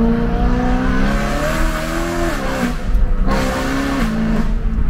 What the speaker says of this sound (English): this is the car with the valves open